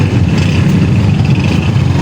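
Steady street traffic with a continuous low engine rumble and idling vehicles, loud and close, with no talking.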